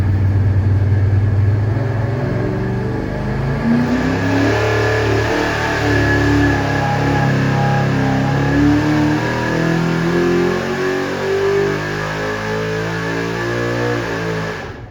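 A small-block Chevy 406 with a tunnel ram intake revs hard on a dyno, a loud, sustained engine roar climbing and holding at high rpm for the whole stretch, with no voices over it.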